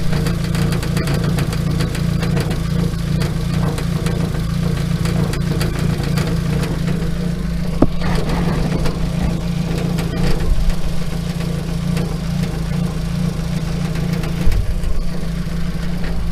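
A Nissan SR20DET engine, freshly reinstalled in a car, idling steadily with a low droning hum and light mechanical clatter, close and continuous, with a few small revs and bumps.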